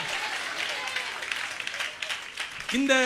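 A church congregation claps along at a Tamil worship service, a busy patter of hands under and between voices, ending with a louder sung or shouted voice at the close.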